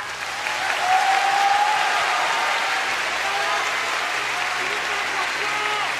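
Audience applause at a 2011 Anohana anime fan event, a steady, dense wash of clapping from a large crowd that fills the whole stretch at even loudness.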